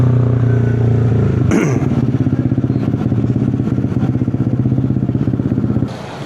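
Motorcycle engines idle and rumble steadily nearby with a throbbing low pulse, briefly revving around the middle before settling back to a steady chug.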